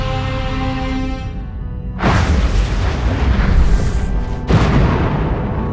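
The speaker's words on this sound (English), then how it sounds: "The deadly explosions of supernovas are endlessly fascinating" A cinematic supernova explosion effect: a humming tone gives way to a deep, rolling boom, followed a couple of seconds later by a second heavy blast, loud and with no voices.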